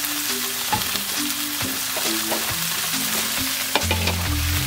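Tofu for Okinawan tofu champuru frying in a pan, with a continuous bright sizzle and occasional scraping stir strokes, close and fairly loud, no voices.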